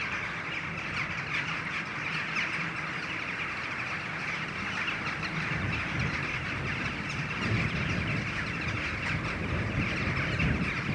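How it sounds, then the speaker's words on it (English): Many crows or rooks call over one another in a constant noisy chorus, distant and somewhat faint, with no speech. "My goodness, a cacophony of crows."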